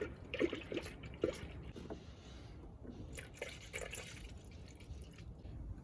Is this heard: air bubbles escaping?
yes